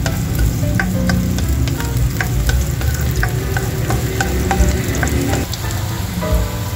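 Garlic sizzling in hot oil while being stir-fried for lumpia, a loud, steady close-up frying hiss broken by frequent light scrapes and taps of the utensil, with no talking.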